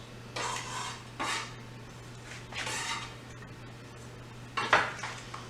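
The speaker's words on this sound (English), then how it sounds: "Give this a stir." A spoon scraping and clinking around a pot of tomato sauce with fresh oregano, four separate stirring strokes with short pauses between them over a low steady hum.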